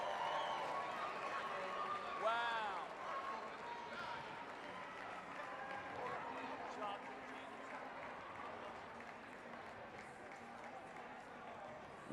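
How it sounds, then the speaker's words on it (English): Indoor rowing competition crowd at a military sports event applauds and cheers in a steady, fairly distant wash of clapping, with voices mixed in and a short whistle-like cry near the start. "Round of applause."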